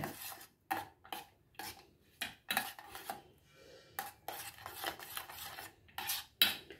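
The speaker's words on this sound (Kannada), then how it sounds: "ಈಗ ಇದನ್ನೆಲ್ಲ ಹಾಕ್ಕೊಂಡು ಒಂದ್ಸರಿ ಚೆನ್ನ ಮಾಡಿ ಮಿಕ್ಸ್ ಮಾಡ್ಕೊಳ್ಳೋಣ" A spoon stirs sugar and other drink ingredients together in a vessel, making repeated close clinks and scrapes in uneven bursts, with no voices.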